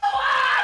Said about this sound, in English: scream at the top of your lungs